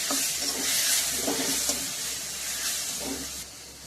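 Steady sizzling of spice paste being sautéed in a hot pan for fish curry, with occasional stirring scrapes, close and continuous, no voices.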